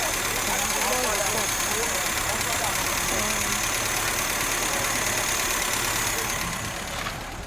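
A rebuilt Peugeot 505 ST engine with a troublesome carburetor idles with a steady, slightly knocking rumble, loud and close, while a person talks over it.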